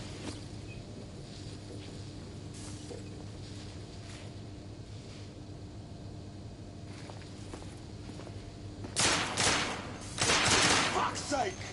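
Gunfire breaks out in The Order: 1886, with a quiet windy stretch of scattered faint reports followed by loud bursts of rapid shots near the end.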